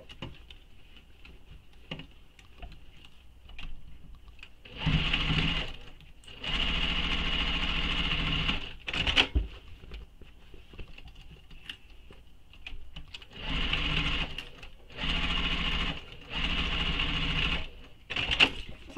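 Sewing machine stitching darts in the lining of a shoulder bag, several bursts of steady running of a few seconds each, separated by pauses and small handling clicks, with no talking.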